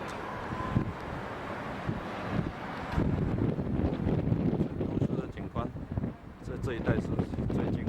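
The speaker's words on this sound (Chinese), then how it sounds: "一上来以后风很大，又冷起来了" Strong, cold wind buffets the microphone in gusts on a walk near the town hall in Magdeburg, Germany, with rumbling bursts that swell louder midway, while people talk under it.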